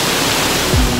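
A small waterfall near a canyon at Bocaina do Farias by Chapada dos Veadeiros gives a dense, steady rushing roar of falling water, loud and close, with a faint low tone sliding down near the end.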